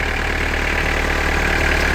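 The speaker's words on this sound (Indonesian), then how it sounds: "Jadi ini suara mesinnya" A 2015 Mitsubishi Triton HDX pickup engine idles at a steady, even rumble, close and continuous with a faint metallic clatter, and no one talks over it.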